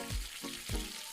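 Chicken balls frying and browning in a pan, a steady close sizzle with a few low thumping stir strokes over about a second, no voices.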